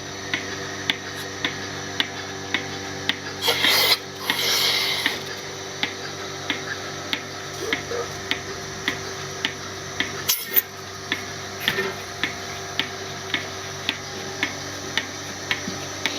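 A milking machine pulsator on dairy cows ticks in a steady, even rhythm of sharp clicks about twice a second, running alone with a constant low hum and a brief hiss partway through.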